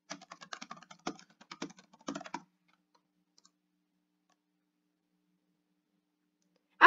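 An email address is typed on a computer keyboard, a quick irregular burst of crisp close keystrokes for about two seconds, then near silence broken by one last sharp click at the end.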